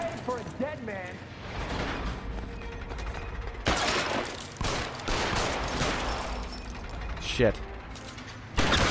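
Bursts of gunfire in the L.A. Noire video game, several loud cracks spread through a busy firefight mix, with someone talking and swearing over the shots.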